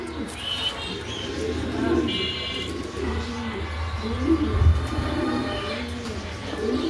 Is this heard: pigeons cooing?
yes